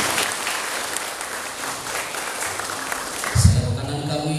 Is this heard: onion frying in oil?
no